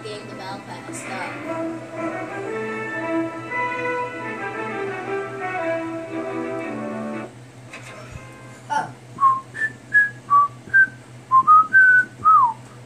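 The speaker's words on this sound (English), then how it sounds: "Y'all hear my whistling? That's our wait music." A person whistles a short, bright tune in separate rising and falling notes, following a stretch of background music.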